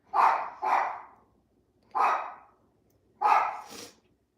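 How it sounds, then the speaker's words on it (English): Shrill dog barks come in four sharp yelps, two close together, then two more after pauses. They sound near and loud indoors, with silence between them. "That's the shrill bark."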